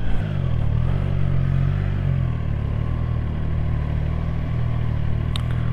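A Triumph Tiger Sport 660 motorcycle engine hums and pulls smoothly under riding, a steady mid-pitched drone with slight rises in pitch and faint rushing air, close and continuous.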